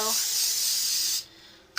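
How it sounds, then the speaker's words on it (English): A short, loud hiss of aerosol cooking spray into a silicone pan lasts about a second, then stops, leaving quiet with a small click at the end. "I still always put a nice light spray in the pan."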